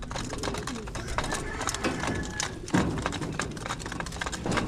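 Pigeons at a loft being prepared for a toss cooing in low murmuring bursts, mixed with light taps and shuffling, close and continuous.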